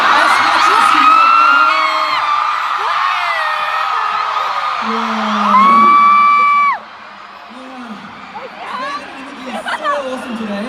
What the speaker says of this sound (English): Shall we scream louder?